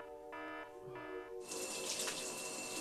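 Water running from a tap into a sink, with a brief faint tone beforehand, then a steady close splashing stream that starts partway through and continues to the end.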